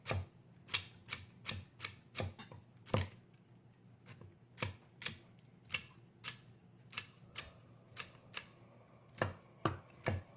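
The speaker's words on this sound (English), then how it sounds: "I'm going to cut off those stems and cut them into about 1/4 inch" A knife cuts Swiss chard stems into quarter-inch pieces on a cutting board, giving a steady series of crisp, close chops at an uneven rhythm with short pauses and no talking.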